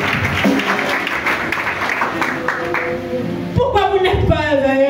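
Church congregation applauding and cheering, a steady wash of clapping hands that grows brighter and more excited near the end, with voices mixed into the crowd noise.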